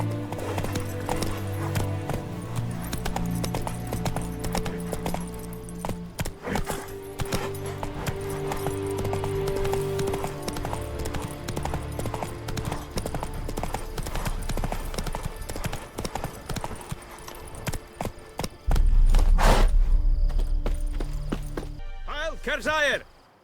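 Horse hooves clip-clop steadily in The Witcher 3: Wild Hunt as a rider urges the mount on, a rhythmic trotting gait over ambient music, briefly interrupted by a louder burst near the end.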